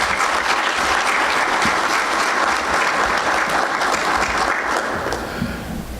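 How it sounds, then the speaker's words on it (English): A dense, loud round of applause from a symposium audience on Caribbean ocean governance, honouring the President. The clapping is sustained and even throughout, easing slightly at the very end. "So I think we should give the President a round of applause for that."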